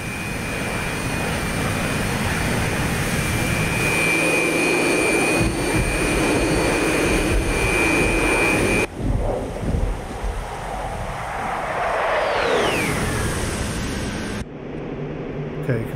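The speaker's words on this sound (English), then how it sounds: "I've got engines to idle" Jet engines of a fighter aircraft in DCS World spool down toward idle while flying fast with air brakes deployed, a loud continuous roar and whine that drops in pitch, with wind rush and a brief break partway through.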